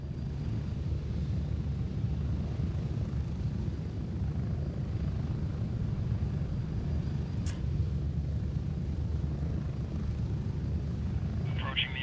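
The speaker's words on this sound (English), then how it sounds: "I love the trips on the chopper in this game because it's so pretty" Helicopter flight in the military shooter Gray Zone Warfare: a steady, loud rotor and engine rumble runs unbroken throughout, heard from inside the cabin, with faint voices underneath.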